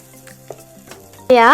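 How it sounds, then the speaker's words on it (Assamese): A sudden loud sizzle bursts in near the end after quiet kitchen clatter, spices frying in butter close up. "তাৰ পাছত আমি এইখিনি অলপ দেৰি ভাজি ল'ম।"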